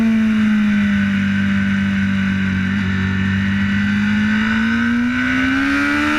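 A racing motorcycle on the Isle of Man TT course accelerates hard, its engine holding a loud, steady high-revving note that climbs slightly toward the end, close and continuous throughout with no talk.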